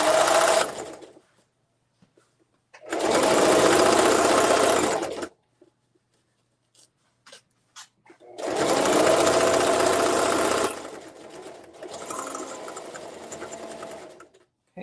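Loud, close bursts of a sewing machine stitching a zipper tote bag, with two long runs and a softer third, separated by quiet gaps with faint handling clicks.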